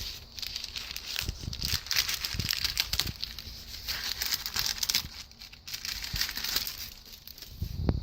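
Wax paper used on art journal pages gets crumpled and crinkled by hand in close, irregular bursts of crackling, with brief quieter pauses between handfuls.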